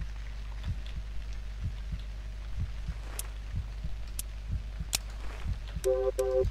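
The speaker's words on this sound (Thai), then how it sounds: "มีเสียงหัวใจ" A heartbeat in the horror video game Cry of Fear, a steady low double thump repeating about once a second under a quiet hum, with a few faint game sounds near the end.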